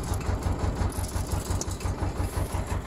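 An engine idles steadily while being adjusted, its low, even pulsing throb repeating at a regular rhythm, close and moderately loud throughout.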